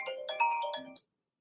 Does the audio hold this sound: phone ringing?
yes